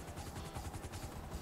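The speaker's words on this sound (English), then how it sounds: "Hey, chopper's here!" A helicopter in the video game Grand Theft Auto V, its rotor thumping in a fast steady pulse, fairly quiet and heard alone.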